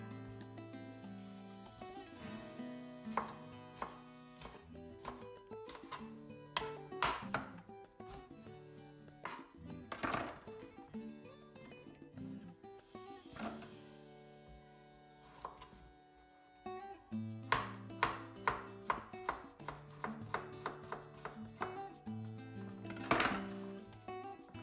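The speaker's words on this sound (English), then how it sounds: "Next, we slice the vegetables. Here I'm using one onion, some peppers, and some courgettes." Knife chopping onion, peppers and courgettes for chicken fajitas on a board, a steady series of crisp close taps in bursts with brief pauses, alongside light clinks of kitchenware.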